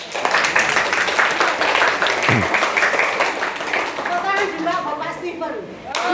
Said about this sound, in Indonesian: Tepuk tangan buat Pak Joni sama Pak Juli.